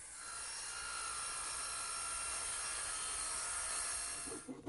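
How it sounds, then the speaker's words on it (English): Worm drive circular saw cutting through plywood, a loud continuous high-pitched whining rasp held for several seconds before the blade winds down at the end, no talk. "When you're cutting with a circular saw, be sure you cut to the outside of the line"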